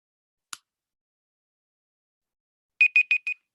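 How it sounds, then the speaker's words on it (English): A timer alarm goes off with four quick, bright electronic beeps in a row after a single faint tick, loud and close against otherwise complete silence. "the timer just went off"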